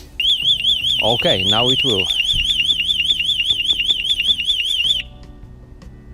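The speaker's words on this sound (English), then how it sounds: "And guys, this is the alarm." A Smarthalo bike alarm shrieks loudly for about five seconds in a fast warbling electronic tone, then cuts off abruptly, with a person speaking briefly near the start.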